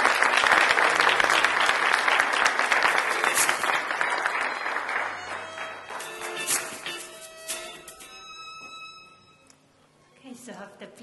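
Audience applause at a doctoral graduation and hooding ceremony, a broad burst of clapping from a large crowd that gradually thins into scattered claps and fades, with a voice speaking as it dies down.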